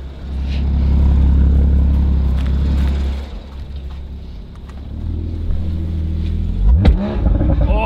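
A Porsche Boxster GTS engine roars loudly up close with a deep low drone, eases off, then builds again with a rising rev sweep near the end.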